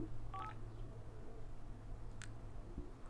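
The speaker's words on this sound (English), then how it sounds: "Phone a ring." A cartoon telephone gives short electronic tone bursts near the start and again around the two-second mark, clear and near over a steady low background hum, with no talk.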